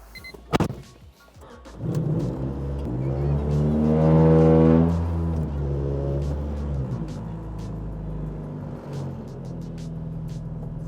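A Honda Civic engine idles and revs as the car slowly backs out, with clicks and clunks around it and a swelling, droning engine note midway.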